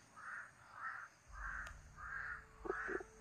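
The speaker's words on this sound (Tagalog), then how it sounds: "may uwak paikot-ikot sa atin" A crow caws five times in an even rhythm as it circles overhead, moderately distant and alone, with a brief low rumble and a couple of faint clicks near the end.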